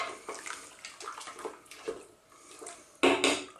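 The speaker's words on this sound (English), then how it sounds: "Let me get that in a bowl so we can see it properly." Lamb curry being spooned from a pot into a bowl, giving soft wet scrapes and metallic clinks of spoon on cookware, ending in a louder burst of clatter and scraping.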